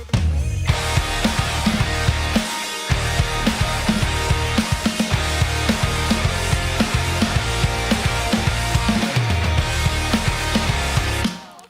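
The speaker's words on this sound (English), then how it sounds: "It's just the effects and the mix without the main vocals." Full instrumental church-band mix of the gospel hymn "When We All Get To Heaven", with effects and no lead vocal, plays loud and dense, with steady low rhythmic pulses and a brief dropout near the start.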